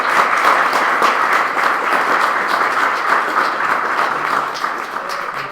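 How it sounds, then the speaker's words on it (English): Audience applause for presenters at a high school sustainable development event, a steady wash of many hands clapping that stays loud and even throughout, with no talk over it. "to give these folks a round of applause"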